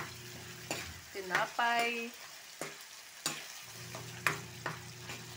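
Fava beans sautéing in a pan, with a soft sizzle and the intermittent scrape and clatter of stirring, quiet and close, with a brief word spoken.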